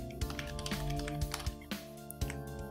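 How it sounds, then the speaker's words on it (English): Keys tapped on a computer keyboard while entering a test username, a loose run of light clicks over a steady background hum, fairly close and without talk. "let's just type in a test user"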